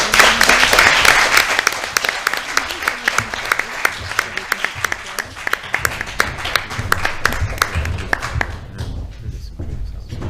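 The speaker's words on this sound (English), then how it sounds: "Can we give them a big round of applause?" An audience at the Eureka Competition 2022 gives a loud, dense round of applause that carries on for several seconds before tapering off near the end.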